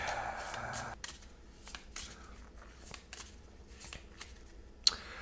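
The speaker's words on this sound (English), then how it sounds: "I'm just shuffling the decks up now" Decks of cards for a Dark Souls tabletop card game are shuffled close up in a quiet room, giving a steady soft riffling and sliding with brief louder flicks and one sharp snap near the end.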